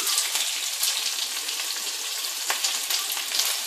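Coarsely chopped ginger frying in a pan for a mint-coriander chutney, a loud, dense, crackling sizzle that goes on without a break, close up and with no voices.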